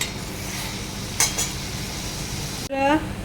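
Pointed gourd (potol) stir-fried in a pan, a steady soft sizzle with a couple of sharp clinks of a utensil against the pan, then a brief louder scraping stir near the end.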